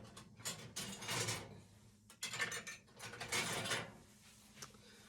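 A metal ring being screwed by hand onto a glass canning jar of pork shoulder butt, giving faint, close scraping and ratcheting bursts of metal on glass threads in several short twists, with no talk.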